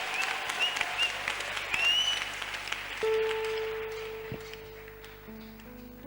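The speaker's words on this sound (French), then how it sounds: "Un applaudissement digne de lui." A church congregation applauding in a reverberant hall, a broad wash of clapping that gradually fades, with a sustained electronic keyboard tone entering partway.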